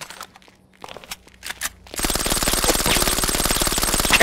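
Sustained automatic gunfire in GTA V, a fast, even machine-gun rattle that starts abruptly after a few sparse sounds and runs loud and continuous to the end.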